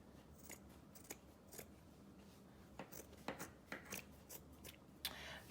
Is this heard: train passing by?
no